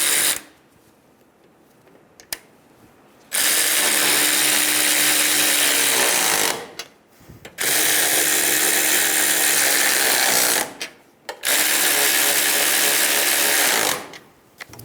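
A power tool snugs down the strut mount nuts on a 2000-2007 Ford Focus, running in three loud, sustained bursts of whirring and rattling with quiet gaps between them.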